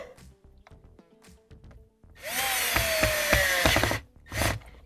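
A small power driver with a Torx 10 bit runs in one loud sustained burst of about two seconds, then a short second burst, fastening a screw during Tesla cabin filter panel work, with tool clicks and handling noises before it.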